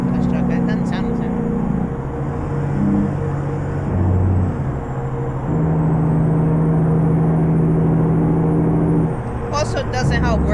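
A heavy truck engine in American Truck Simulator drones steadily with shifting tonal hums as gears change, loud and continuous, with the truck's stock sound and talk over it.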